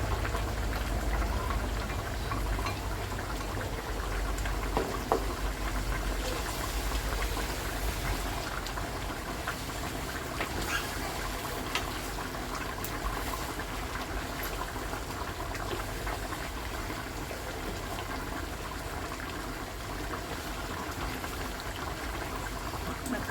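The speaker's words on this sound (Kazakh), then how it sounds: "Пиязын салғаннан кейін пияз 10 минут қуырылып жатыр." Chopped onions frying in a pan, a steady soft crackle and sizzle throughout, faint and even with no talking.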